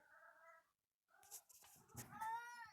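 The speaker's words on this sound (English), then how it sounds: "the cat is freaking out." A cat lets out a couple of loud, drawn-out meows close by, separated by a short pause, with a clattering burst in between.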